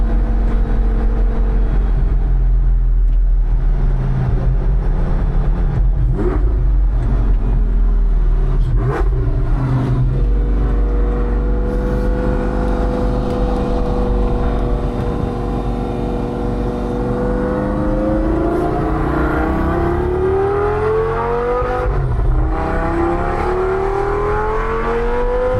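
A 2007 Lamborghini Gallardo engine roars loudly from inside the cabin, revving hard through a string of downshifts with rising and falling pitch sweeps, sustained and powerful with no voices over it.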